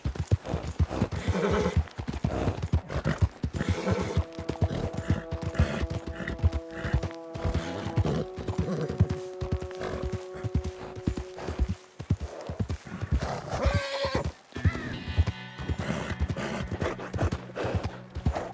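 Horse in Red Dead Redemption 2 being ridden, with steady rapid clip-clop of hooves throughout and a couple of drawn-out whinnies layered over the gallop, close and fairly loud.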